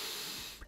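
A single short sniff, close and fairly quiet, heard near the end of a faint stretch of background hiss, with no talking.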